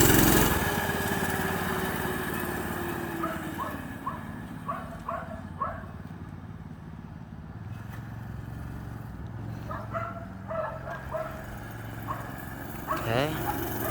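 A Baja Doodlebug minibike with a Predator 212 engine being ridden, its small engine droning steadily and rising and falling in pitch as it revs and passes, with voices talking over it.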